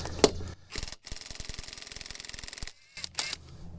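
A ratchet wrench fitted with a 19mm socket works on the lug nuts of a jacked-up Dodge Caravan, giving a close, rapid run of ratcheting clicks lasting about two seconds, framed by a few sharp clanks and knocks.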